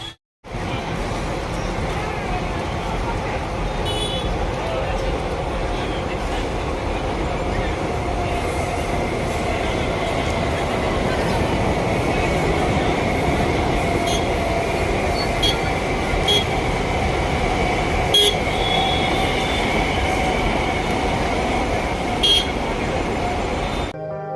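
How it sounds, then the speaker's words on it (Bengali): Train running on the line that carries Howrah services toward South India, heard as a loud steady rumble of wheels on rails lasting throughout, with faint squealing tones and occasional clicks. "হাওড়া থেকে যে সমস্ত গাড়িগুলো দক্ষিণ ভারতে যায় সে সমস্ত বেশিরভাগই ট্রেনগুলো কিন্তু এই দিক দিয়ে যায়"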